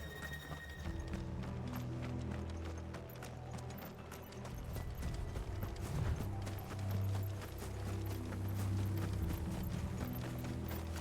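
Rhythmic clip-clop of horse hooves on a hard surface in the video game Final Fantasy XVI, continuous and fairly close, with creaking mechanical sounds and a low rumble behind.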